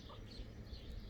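Chickens clucking softly beside a chicken tractor holding baby chicks, low steady fowl murmurs over a dense, noisy outdoor background for about a second.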